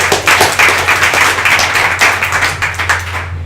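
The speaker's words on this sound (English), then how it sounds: "Please give him a warm round of applause." Audience at a mobile marketing meetup breaks into steady, close clapping that fills the room for several seconds, a dense patter of many hands with no talk over it.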